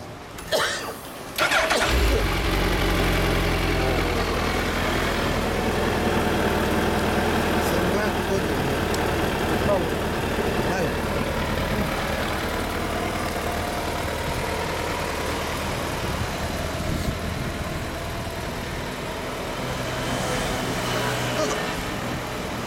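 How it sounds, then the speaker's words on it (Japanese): A 2013 Suzuki GSX1300R Hayabusa sport motorcycle engine fires up with a quick crank, then settles into a steady, throaty idle nearby, with people talking over it. "エンジンを聞かせてもらえますか？"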